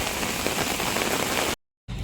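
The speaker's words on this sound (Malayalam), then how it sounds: "കണ്ണമ്പ്ര ഒരു രക്ഷയില്ലാത്ത രീതിയിൽ മഴ പെയ്തുകൊണ്ടിരിക്കുകയാണ്" Heavy monsoon rain pours down in Kannambra during the vela festival, a dense, loud, even hiss of drops on surfaces that cuts off abruptly for a moment before resuming.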